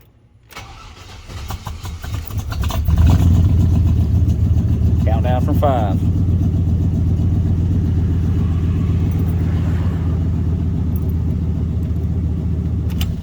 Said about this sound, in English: We're gonna go ahead and go start up the truck for like 5 seconds.